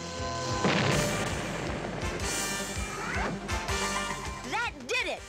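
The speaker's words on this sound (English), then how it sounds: "a short circuit. And quite a bang." Crossed swords short-circuit a gate in an animated cartoon, setting off a sudden electric bang and crackling surge amid busy music and effects, with voices talking.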